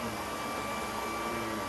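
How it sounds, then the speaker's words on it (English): A UWANT V500 vacuum cleaner runs on carpet with a loud, steady whirring drone that stays even throughout, with no voices. "You know it's a good test for a vacuum cleaner when you try it on a multi-dog household."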